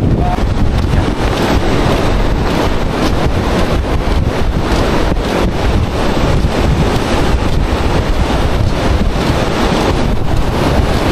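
Strong wind roars at a rainy beach with surf churning underneath, a loud, unbroken blustery rush across the mic with no pauses.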